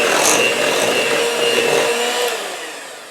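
Egg yolks, mayonnaise, mustard and vinegar are mixed together, giving a loud, continuous whirring, buzzing churn close by that fades slightly near the end, with no voices.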